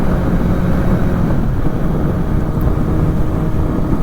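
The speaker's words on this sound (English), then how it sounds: "Oh, a little bit of wind today." Riding a Suzuki GSX-S750 motorcycle at speed on a country road, a constant low roar of wind buffets the microphone, loud and unbroken, with no talk.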